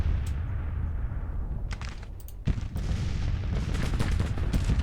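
Artillery and massed rifle fire from a Grand Tactician Civil War battle in a town, with a dense, continuous rumble of distant cannon and musketry and several sharper nearby shots breaking through.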